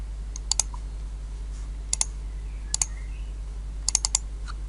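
Mouse clicks in the Unity editor while building a third-person shooter game: four short bursts of crisp double clicks spread through the clip, close and fairly loud over a steady low electrical hum, with no talking.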